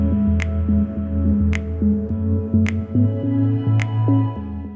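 A reel mower's blades spin while being backlapped with 80-grit lapping compound before cutting a bentgrass putting green, a steady mechanical whir with shifting tones and regular sharp clicks about once per second.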